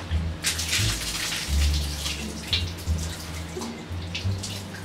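Water squirting out during a household life hack test, spurting in short bursts with splashing hiss and low thumps, fairly close, with no talk over it.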